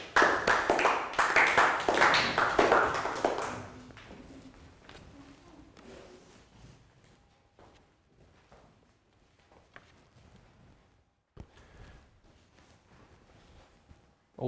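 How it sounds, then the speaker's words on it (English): Young pupils in a Year 3 English classroom give Pangpong a round of applause, a short burst of quick, close clapping that fades after about four seconds into scattered taps, shuffling and quiet classroom noise. "Round of applause for Pangpong."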